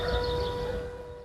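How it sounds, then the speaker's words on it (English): Town air raid sirens sound in Ukraine during the 2022 war, a steady, sustained wail holding one even pitch that carries across the town throughout, with no speech. "who ignore the town's sirens"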